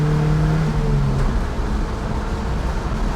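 A 1994 Toyota pickup engine revs up under a short burst of acceleration, a steady close drone that rises briefly and then settles into a continuous road rumble.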